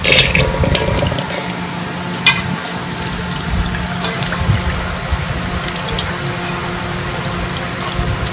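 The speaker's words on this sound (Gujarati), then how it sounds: "બે પાણીએ ધોઈ નાખવાની" Water sloshing and trickling with wet squishing as chopped dara and garmar pieces are swirled and lifted in a bowl of water, steady and close.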